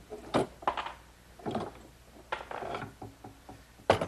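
Clamps being loosened and removed from a freshly glued wooden table top blank in a woodworking shop, giving several sharp ratcheting clicks and metallic clanks in irregular bursts, close and fairly loud, with no talk.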